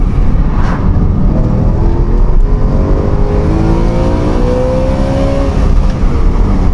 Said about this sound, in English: It is a 4-liter V8 engine, last of its kind.